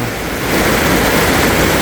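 Strong flood water after days of rain rushes past in a loud, dense, continuous roar, close and steady, with no voices over it.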